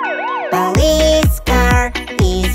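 Police car siren in a kids' song, a loud wailing siren at first followed by bright, chiming musical notes and rhythmic tonal hits, with no spoken voices.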